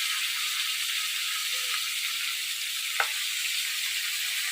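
Cumin seeds sizzling in hot oil in a village Bengali kitchen, a steady bright hiss with a single small pop partway through, close and even, with no voices.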